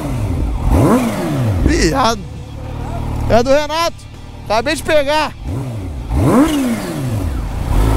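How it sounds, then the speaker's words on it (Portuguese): A turbocharged Kawasaki Ninja H2 motorcycle engine revs in sharp bursts, climbing and falling in pitch several times, with a whistling whine over the throttle blips as people talk excitedly nearby. "Já vi uma moto com turbo?"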